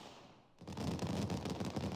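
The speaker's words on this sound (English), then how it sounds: "Whoa, fireworks!" Fireworks in the video game Blue Archive burst in a rapid, crackling volley after a brief quiet lead-in, loud and dense like popping gunfire, with no talk over it.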